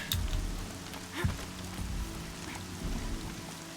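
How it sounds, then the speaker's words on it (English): Steady rain falls in Horizon Zero Dawn as a continuous hiss of drops with a low rumbling bed beneath, broken by a few faint in-game thumps and movement sounds. No talking. "This is one of those games where I don't really mind if it's raining"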